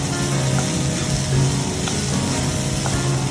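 Mushrooms and vegetables, zucchini among them, sizzle steadily in a hot pan while being stirred, a continuous loud frying hiss with faint scraping.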